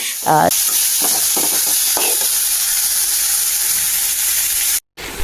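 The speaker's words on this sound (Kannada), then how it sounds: "ಆನಿಯನ್ಸ್ ಹಾಗೂ ಚಿಲ್ಲಿ ಎರಡು ಕೂಡ ಫ್ರೈ ಮಾಡ್ಕೊಳ್ತಾ ಇದ್ದೀನಿ" Onions and chillies frying in a pan with very little oil, a steady loud sizzle running almost unbroken from start to finish, close up, with a brief stirring clatter near the beginning.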